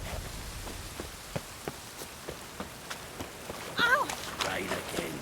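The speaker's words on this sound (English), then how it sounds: "Ow! Rain again." Steady rain in the video game The Witcher 3, a soft continuous patter with faint footstep-like taps, followed by a brief louder stir near the end.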